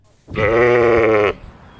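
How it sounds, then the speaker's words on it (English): A single loud, sustained merino sheep bleat, close by, lasting about a second before cutting off into quiet. "It all starts with merino sheep."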